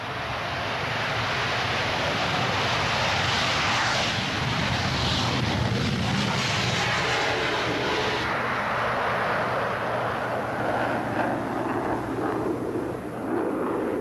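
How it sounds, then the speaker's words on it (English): A Soviet MiG-25 interceptor with two R-31 engines takes off down a runway, a loud, continuous broadband jet roar that holds steady and swells before easing slightly near the end. "the colossal combined thrust of 2 R-31 engines fires the 37-ton fighter down the"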